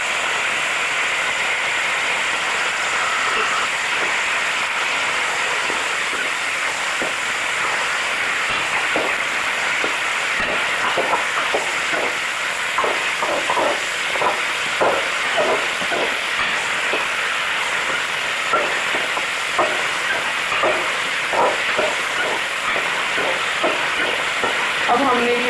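Tomatoes sizzle and crackle in a hot frying pan while a chicken macaroni pasta is being cooked. A loud, steady hiss continues throughout, with small popping crackles on top.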